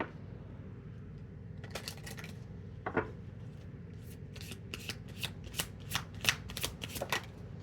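Tarot cards being shuffled for a reading, a string of crisp riffling bursts that quicken toward the end, close and fairly quiet over a soft room hush, with no talking.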